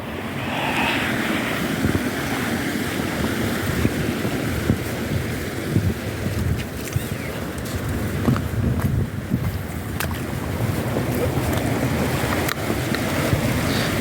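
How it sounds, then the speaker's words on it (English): Nash Brook, a rapid-flowing stream with small waterfalls on the Welsh coast, rushes in a continuous broadband wash, fairly close and steady, with occasional clicks on top. "this rapid flowing stream is known as Nash Brook"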